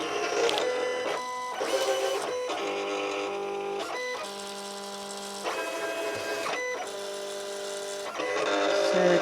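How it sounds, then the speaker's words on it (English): A computer-controlled vinyl cutter searches for registration marks and begins cutting, producing a series of mechanical whirring motor runs and stepped tonal whines, starting and stopping in short bursts, close and clear. "So the cutter at the moment is trying to find the registration marks."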